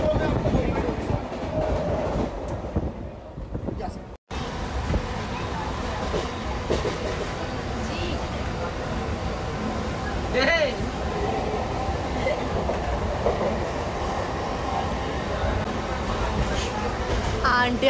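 A crowded local passenger train running, with a constant loud rumble and rattle of the carriages throughout and people talking over it.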